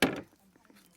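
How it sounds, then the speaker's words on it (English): A single sharp knife chop slices an end off an onion on a board at a camp cooking setup, one crisp close thud followed by faint small ticks. "onion, same as always, just cut the ends off"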